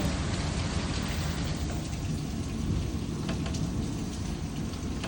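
Steady, dense rainfall during a hailstorm patters continuously on surfaces, fairly close, with a low rumbling undertone throughout and no voices.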